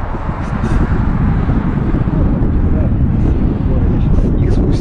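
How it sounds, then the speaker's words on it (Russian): Strong stormy wind roaring across the microphone of a cyclist riding in the Tian Shan near Issyk-Kul, a dense, continuous low buffeting rumble with faint higher gusts. "мне сегодняшний ветер кажется не таким сильным"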